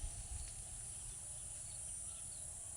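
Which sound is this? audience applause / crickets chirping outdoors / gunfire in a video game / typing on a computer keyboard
crickets chirping outdoors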